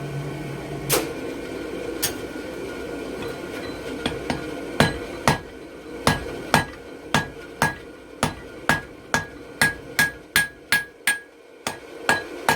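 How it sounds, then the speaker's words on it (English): A hammer forging a taper on a steel bottle opener, sharp metallic strikes ringing out at first sparse and irregular, then settling into a quick steady rhythm of clear, loud blows with brief pauses. "I'm just going to go ahead and forge this taper right now"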